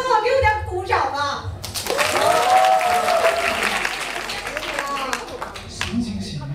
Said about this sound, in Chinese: 给我点鼓掌吧。